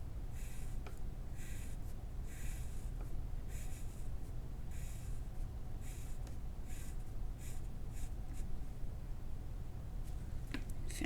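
A graphite pencil shades evenly spaced lines on paper with steady pressure, making quiet, close, rhythmic bursts of scratchy strokes with brief pauses between passes.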